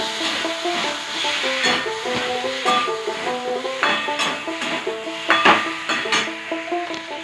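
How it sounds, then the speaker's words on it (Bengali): Poppy seed and cashew paste with ginger paste stirred in a pan for malai paneer, a soft sizzle with uneven scraping strokes and light metallic clinks, near and moderately loud, no one speaking. "আর পোস্ত কাজু বাদাম বাটা, পুরোটা দিয়ে দিলাম। একটু নাড়বো।"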